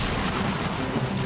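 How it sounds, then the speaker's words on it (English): Cannon artillery fire around the Alamo, heard as a dense, continuous rumbling roar of booming bursts that stays loud throughout. "Outside the walls, General Santa Anna put his cannons to work"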